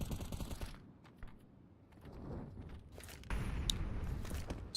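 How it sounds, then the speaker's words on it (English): Desert Eagle pistol shots in a Counter-Strike pro match, sharp isolated cracks scattered among footsteps and game noise, with a louder cluster of gunfire near the end. "So, a couple of deagles here."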